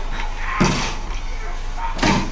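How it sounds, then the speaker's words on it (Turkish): In the horror game Outlast Whistleblower, someone bangs on a door trying to force it open, two heavy thudding slams about a second and a half apart over a low droning ambience. "Kapıyı açmaya çalışıyorlar."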